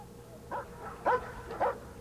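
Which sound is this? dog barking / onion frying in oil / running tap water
dog barking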